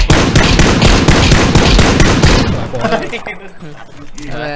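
Rapid, loud bursts of automatic gunfire during a PUBG-style team practice match. The shots crackle densely for a couple of seconds, then thin out into scattered fainter shots as voices talk over the game.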